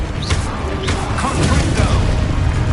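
A Descendo slam spell strikes in the Hogwarts Legacy video game, giving a loud whooshing swoosh followed by heavy crashing impact rumble within a busy, steady game soundscape.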